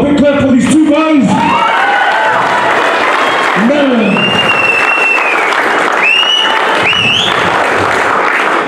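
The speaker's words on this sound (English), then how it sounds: "Why don't you give a big clap for these two guys?" A loud, close crowd applauds two competitors at a bout, with clapping mixed with whoops, shouts and cheering voices that rise and fall throughout.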